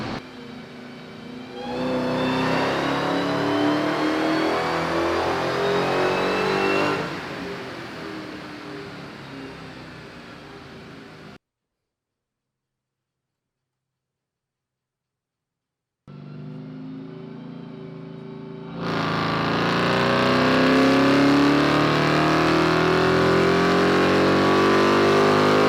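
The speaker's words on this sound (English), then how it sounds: "throw a Hellcat on the dyno real quick for some just baseline horsepower numbers" A Dodge Hellcat engine revs hard on a dyno, a loud, sustained roar that builds, eases off and then swells again after a short silence.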